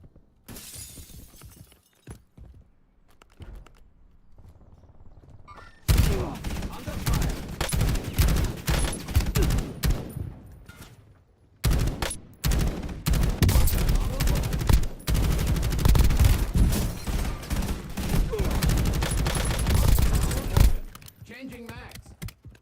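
Dense automatic gunfire from a Kilo rifle in a multiplayer shooter game, long loud rapid bursts with shattering impacts, broken by short quieter pauses where a player talks.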